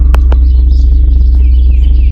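A couple of sharp bird chirps ring out early over a constant low throbbing hum that continues steadily underneath.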